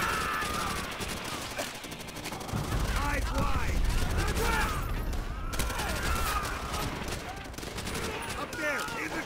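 Rifle fire in Call of Duty: World at War, scattered cracks and volleys within a loud continuous battle din, with shouting voices throughout.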